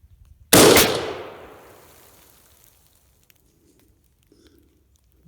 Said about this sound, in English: That was the first cold bore shot, so keep that in mind.